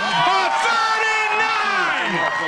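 A riverside crowd at a stone skipping contest on the Allegheny in Franklin, Pennsylvania cheers and whoops, many voices shouting together loudly and continuously, close by.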